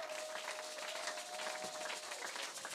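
A church congregation at an Easter Sunday service claps and applauds with steady, dense clapping that holds throughout, moderately loud and without speech over it.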